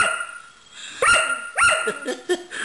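A dog gives a few sharp barks mixed with whiny yelps, close by, in short bursts with pauses between.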